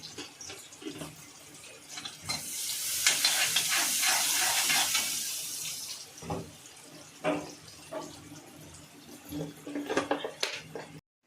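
Onion fries in oil in a pan, a hissing surge of sizzle that swells and fades, followed by intermittent scraping and clattering of utensils, nearby and with no one speaking.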